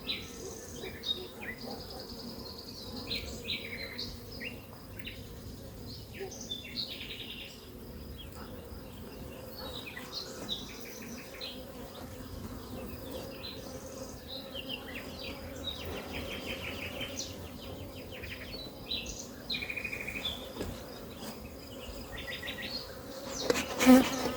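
Honey bees buzzing steadily around an open beehive during an afternoon inspection, a dense continuous hum with individual bees droning close by, faint birdsong in the background and a brief louder clatter near the end.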